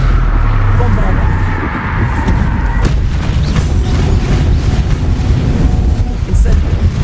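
A Bombarda explosion spell in a Harry Potter video game: a loud, deep boom that rumbles on, with further blast noise and a game voice speaking over it.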